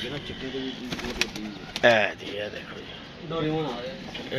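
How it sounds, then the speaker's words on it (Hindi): Pigeons coo in low, throaty bursts close by, several calls spread across a few seconds, while someone talks over them. "ये जी 3 कबूतर आ गए दोस्तों, और जी ये चौथा कबूतर है दोस्तों"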